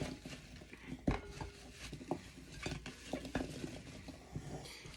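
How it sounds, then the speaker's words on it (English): Apple crisp filling is tossed in a bowl with a utensil, making soft, irregular clinks, scrapes and wet stirring sounds that repeat steadily and close by, with no talk. "I'm going to give that a toss and make sure everything gets coated."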